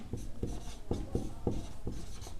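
Chalk or marker scratches out handwriting on a board during a maths lesson, rhythmic strokes and taps repeating about every half second over a steady low background, close and fairly clear.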